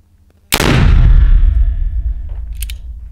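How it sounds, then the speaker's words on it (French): A single loud, sharp shot from the upper barrel of a Gomm Cogne defense gun, fired at a target plate about six meters away, with a long decaying rumble and a faint metallic clink at the end. "Et maintenant, canon du haut."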